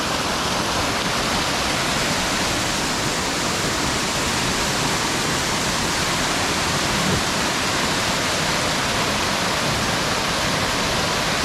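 A natural waterfall in Utah roars continuously and evenly, a dense, loud rush of falling water that holds steady throughout with no one speaking.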